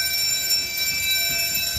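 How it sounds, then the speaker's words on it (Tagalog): A Gent conventional fire alarm sounds during a system test after a manual call point is pulled down, giving a steady, continuous high electronic tone that fills the room. "nag-alarm na siya."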